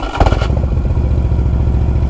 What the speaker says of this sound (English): Kind of makes a funny noise when it starts up.